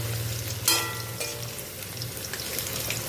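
Eggplant is dropped into hot oil while cooking Bengali shukto. It hits with a sudden loud splash and sizzle, then settles into steady frying crackle at close range, with no talking.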